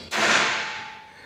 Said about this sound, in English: I'm going to go and do the center punch again.